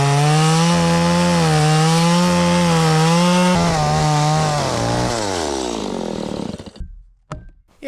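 A chainsaw roars loud and close as it cuts into a wooden fence post to clear out a mortise, its engine pitch dropping under load before cutting off abruptly near the end, leaving a few scattered knocks.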